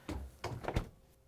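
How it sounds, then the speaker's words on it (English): Samsung refrigerator doors swing shut in three soft, close thuds spaced across about a second, with a quiet room tone around them. "we can close the doors"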